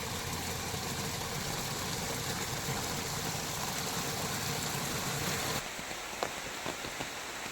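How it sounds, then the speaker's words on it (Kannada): Gurgling stream water flows in a steady, dense rush that holds evenly, then drops to a softer, thinner trickle with a few light splashes for the last couple of seconds. "ಜುಳು ಜುಳು ಹರಿಯುವ ನೀರಿನ ಶಬ್ದ"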